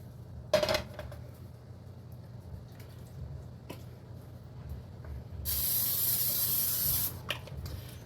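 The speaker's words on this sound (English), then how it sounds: "Let's rinse out the pan real quick" A pan is rinsed under a running tap in a home kitchen: a sharp clatter of cookware opens, then quiet handling and a few clinks, before a loud steady gush of water sprays into the pan for about two seconds and cuts off.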